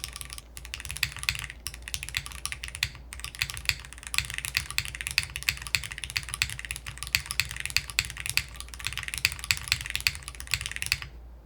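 Mechanical keyboard fitted with Cherry MX switches on a polycarbonate plate, spring-swapped, typed steadily and close up as a dense stream of clicky-clacky keystrokes, with no voices.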